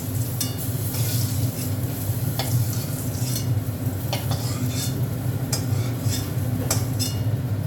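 Bitter gourd fries in hot oil in a pan, a loud, continuous sizzle with occasional sharp scrapes and taps of a spatula as it is stirred, close up and with no talk.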